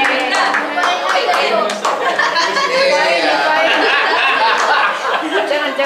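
Audience clapping at an opening semester worship service at a theological college, a loud steady patter of many hands mixed with chatter and some laughter.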